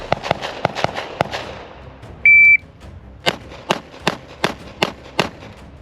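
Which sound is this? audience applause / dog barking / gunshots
gunshots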